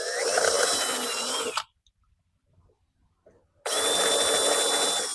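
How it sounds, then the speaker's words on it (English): Power drill boring holes into a wooden birdhouse built from a fence picket, two loud sustained whining bursts of drilling, near and close, separated by a short quiet pause. "I'm going to drill a couple back here that'll go into the box"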